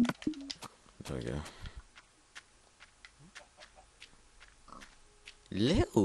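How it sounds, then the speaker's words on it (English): Pig oinking in the Minecraft video game: short grunting bursts near the start and again at the end, loud and close, with quieter game noises and a player talking in between. "There's another pig there."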